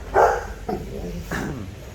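A dog barks close by, two or three short, sharp barks with brief pauses between them, loud and clear with no talking over them.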